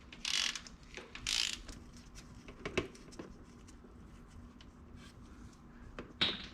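A ratchet wrench works loose the transmission drain plug on an Autozam AZ-1 (Suzuki Cara) kei car, giving a few short bursts of quick clicking separated by quieter pauses, close and fairly faint, with no talk.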